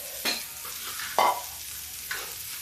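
Onion frying in a pan for masoor dal, a soft continuous sizzle with a few sharp spatula scrapes and stirring strokes, close and alone.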